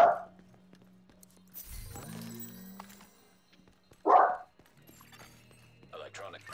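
A dog barks in The Division 2 video game, two sharp barks a few seconds apart standing out over a low ambient game background with electronic hums.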